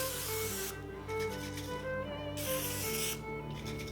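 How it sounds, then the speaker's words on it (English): Cooking oil sprays onto loin pork chops in an air fryer basket in a few short hissing bursts close by, with a steady hum running underneath. "I'm actually going to spray the tops of these."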